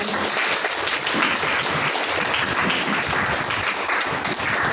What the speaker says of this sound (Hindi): सभी गवाही के लिए जोरदार तालियां।